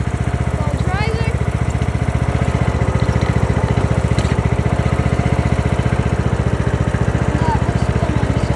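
A tractor engine runs steadily while the tractor is driven, its low rhythmic chugging loud and continuous throughout, with a faint whine rising briefly near the start.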